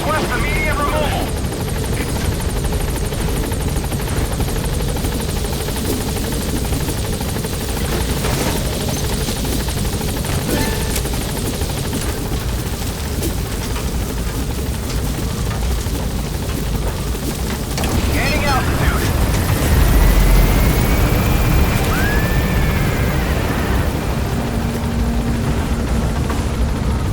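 Helicopter rotor thrum and engine whine from the game Metal Gear Solid 5, steady and loud throughout as the aircraft hovers near a landing zone, with a radio voice talking over it and a surge of noise near the end.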